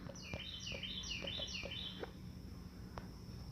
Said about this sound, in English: Those nice birds in the background.